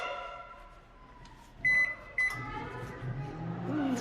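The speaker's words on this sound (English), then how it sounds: "I close the microwave, I press a few buttons" Microwave oven heating pancakes, with a steady low running hum and two short, bright electronic beeps from the keypad partway through, close by and with no one talking.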